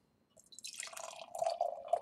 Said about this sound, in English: Let's pour this right into the glass.